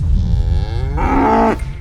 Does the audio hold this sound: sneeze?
no